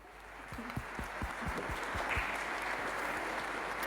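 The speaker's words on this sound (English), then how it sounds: "give us a big round of applause for Vivi" Applause from a seminar audience on the Sustainable Development Goals swells after a few scattered early claps and then settles into a steady, fairly distant wash of clapping with no voices over it.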